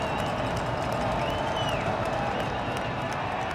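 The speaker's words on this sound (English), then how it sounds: "As you hear this crowd get into this third down" A stadium crowd at a college football game, Appalachian State at Old Dominion, roars on third down as a dense, sustained wash of cheering and noise, loud and constant throughout.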